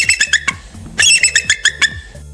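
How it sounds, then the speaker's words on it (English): A bald eagle gives a loud, close series of shrill, high chittering calls, with two bursts of rapid piping notes separated by a brief pause. "This is a bald eagle that walks furtively."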